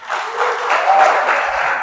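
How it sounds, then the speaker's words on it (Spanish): A church congregation claps in a short, warm burst of applause, fairly close and even, with no talking over it. "¿Por qué no le da un aplauso,"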